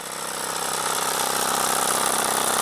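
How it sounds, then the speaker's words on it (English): A 12-volt electric air compressor pumps air into a 100-litre airport firefighting tank, giving a loud, steady, rapidly pulsing mechanical drone that holds constant throughout. "12-volt electric air compressor, feeding compressed air into a 100-litre airport firefighter."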